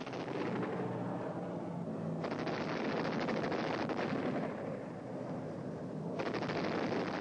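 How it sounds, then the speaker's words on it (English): Video game gunfire during a low strafing pass, dense bursts of rapid shots in loud rolling waves over a constant roar, with no talking. "I'm going very low now to avoid the gunfire"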